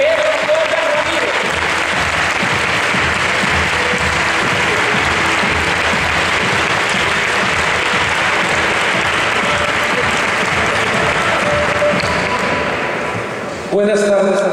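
A conference audience in a hall breaks into sustained, loud applause to welcome a journalist guest speaker, a steady dense wash of clapping lasting over ten seconds before cutting off.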